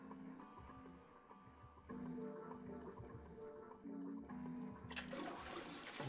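A toilet flush in the video game 9 Hours 9 Persons 9 Doors, with a gurgling rush of water swelling and ending in a bright splashy surge over a looping low musical background.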